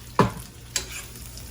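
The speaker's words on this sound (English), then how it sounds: "We're just gonna saute it up, get it nice and cooked, and then we'll add our tomato sauce in there." Chicharrones sauteing in a pan, with tomato sauce to come, give two brief stirring scrapes over a faint steady sizzle, close and quiet with no talk.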